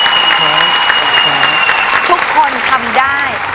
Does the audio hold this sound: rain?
no